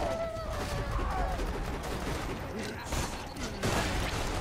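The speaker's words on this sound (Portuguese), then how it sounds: "Eu tô levando tiro de todo lado." Dense gunfire from the video game Borderlands 2, rapid overlapping shots and bursts forming a continuous loud barrage throughout, with game effects mixed in.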